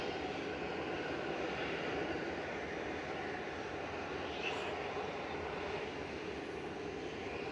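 Airbus A320-200 Classic passenger jet arriving at Manchester Airport from Jersey, a steady broad engine roar that holds level throughout, moderately distant, with no talk over it.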